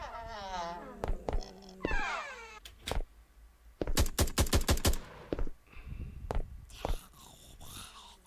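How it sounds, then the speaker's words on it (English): Zombie in an Unreal Engine horror game moaning and wailing, then exploding with a burst of rapid sharp cracks and bangs, followed by crackling burning sounds and further groans, fairly faint overall. "this zombie started burning because it explodes"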